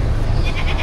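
A goat at a livestock market in Padre Garcia, Batangas gives a brief, close bleat over a low murmur of crowd noise.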